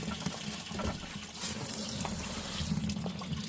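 Tap water runs steadily to rinse grit out of a rock tumbler barrel, a continuous close splashing and gushing into a sink.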